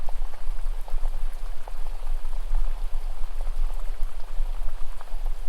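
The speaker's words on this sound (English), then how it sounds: "to the sound of that flowing water." Water flowing steadily along a stream edge past rocks, a dense continuous bubbling and splashing wash that stays close and fairly loud throughout, with no voices.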